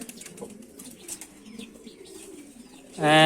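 Pet pigeons coo softly in low, rolling calls with faint wing flutters, before a loud, harsh burst cuts in at the very end.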